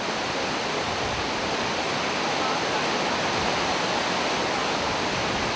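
Waterfall on the Aktru River in the Altai mountains, fed by glacier slopes: a steady, dense roar of rushing water fills the whole stretch without pause, loud and close, with no voices.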